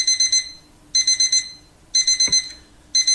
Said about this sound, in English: get that alarm clock, man.